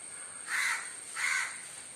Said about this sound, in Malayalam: ഇതൊരു ഒരു പ്രത്യേക തരം സൗണ്ടാണല്ലോ ഈ കാക്കയ്ക്ക്